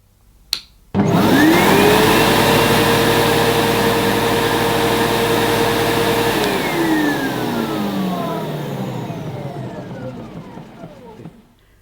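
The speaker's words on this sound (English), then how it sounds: "Speaking of the hose, might as well do a suction test." Sebo-built Diversey Ensign SM1 upright vacuum cleaner running a sealed suction test at the end of its hose, a loud motor whine that starts abruptly, holds steady, shifts in pitch as suction is blocked, then winds down.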